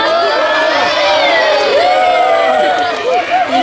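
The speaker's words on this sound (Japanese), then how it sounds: "皆さんの声援の方が熱かった" A concert audience at Tokyo Dome City LaQua cheers and shouts loudly, a dense, sustained crowd roar with rising whoops and voices filling the space throughout.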